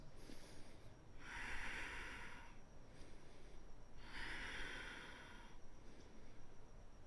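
Slow, audible breaths during a yoga flow session, two long hissy exhalations of about a second and a half each separated by quieter inhales, faint and close.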